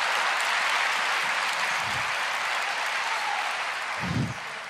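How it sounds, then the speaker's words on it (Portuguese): Church congregation applauding in praise, a broad, sustained wash of clapping filling the room at moderate distance, easing slightly toward the end. "Você pode se expressar e aplaudir o Senhor."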